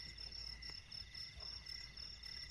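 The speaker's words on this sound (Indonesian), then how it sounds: "jangkrik alas." Forest crickets at night near a campsite, a steady high-pitched trilling chorus that carries unbroken through the quiet, soft and continuous with no voices.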